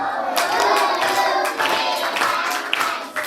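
Schoolchildren in a primary science class clapping for a classmate, a loud, lively burst of claps with excited young voices calling out over it.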